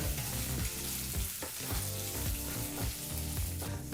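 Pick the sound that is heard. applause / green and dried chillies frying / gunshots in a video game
green and dried chillies frying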